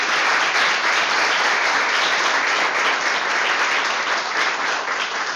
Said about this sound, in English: So could we get a big round of applause for Lorraine?